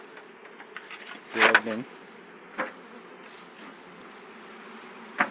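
Honey bees buzz around during a hive transfer from nucleus boxes into deep hives in Jamaica, a low continuous drone with sharp knocks and clatter from the hive work and a few spoken words.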